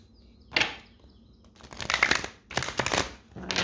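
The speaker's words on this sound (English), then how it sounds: "we're going to pull 5 cards from the good tarot here. I'm going to shuffle these." A deck of tarot cards being shuffled by hand in several crisp, riffling bursts separated by short pauses, close and fairly quiet, with no talking.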